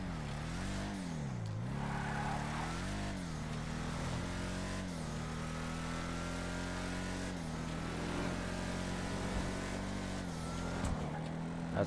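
Engine of a Vapid Ellie muscle car in GTA Online, a steady low drone that rises and falls through a few revving sweeps, held at moderate loudness with a voice faintly underneath.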